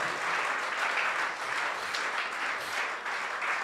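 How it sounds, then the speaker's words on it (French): Church congregation clapping and applauding together, a dense, continuous patter of many hands that swells slightly in waves and stays loud and close throughout. "If you are the one, clap for Jesus."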